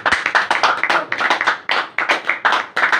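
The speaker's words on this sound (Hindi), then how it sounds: "तो मैं चाहता हूं वकार भाई के लिए एक बार जोरदार ताली।" A small group claps loudly for a person at a religious talk, the sound close and sharp, coming in uneven bursts of rapid hand claps with brief gaps between them.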